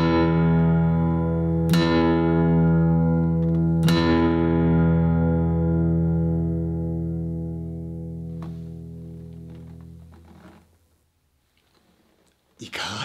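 A 1996 Martin D-45 Deluxe CFMB 200th Anniversary commemorative acoustic guitar in Brazilian rosewood plays deep bass notes: two struck notes ring out and sustain with full, warm lows, then slowly decay and fade near the end.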